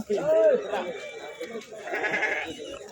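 Sheep and goats at a weekly livestock market in Kadiri bleat nearby, one loud wavering cry standing out first, with someone talking over the animals and general market noise.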